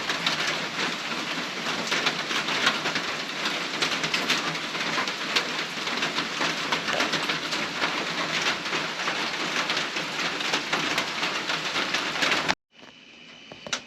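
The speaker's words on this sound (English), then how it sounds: "wind can really blow the rain down pretty good" Heavy rain pouring steadily onto a cabin porch, blown by wind: a dense, loud, continuous hiss that cuts off abruptly near the end, leaving a much quieter background.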